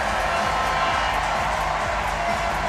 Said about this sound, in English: the crowd erupts here at the North Paris Arena